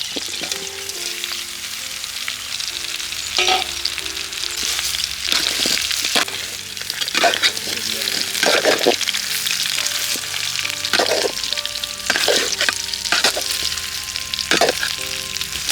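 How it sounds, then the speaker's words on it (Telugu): Fried cauliflower for Gobi 65, restaurant style, is tossed with coriander in a sizzling pan. A steady, loud frying hiss runs throughout, broken by repeated scraping and clattering stirs, with no talking. "ఇంకా ఫ్రైడ్ గోబీలను వేసుకోండి,"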